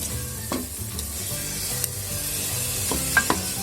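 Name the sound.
yogurt added to frying masala, stirring and sizzling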